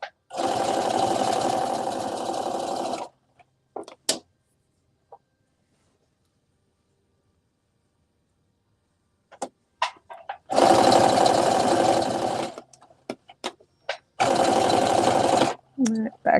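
A sewing machine stitches a sweatsuit top in three loud, steady runs, the first about three seconds long and two shorter ones later, separated by a long quiet stretch with only small clicks and handling noises.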